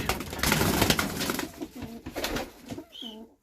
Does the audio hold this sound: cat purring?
no